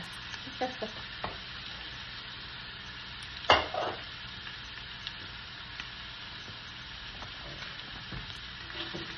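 Chicken sisig sizzles steadily in a small cast iron pan while being stirred, a continuous close frying hiss broken by scraping clatters and one loud knock of a utensil against the pan.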